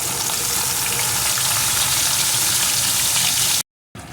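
Cumin and ginger paste sizzles loudly in hot oil in a pan for a vegetarian dahi baingan, a steady, dense frying hiss that breaks off briefly near the end before resuming.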